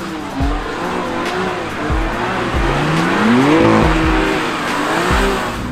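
A car drifts on a wet track, its engine revving up and down while tires hiss and squeal through a long slide, loud and close with no talking.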